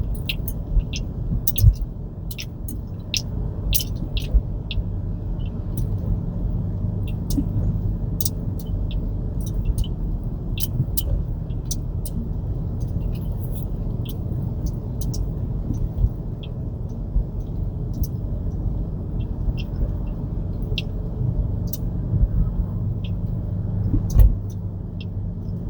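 A car drives along Montserrat Avenue in Honolulu, Oahu, Hawaii, heard from inside as a steady low road and engine rumble that runs the whole time with a few faint clicks and knocks.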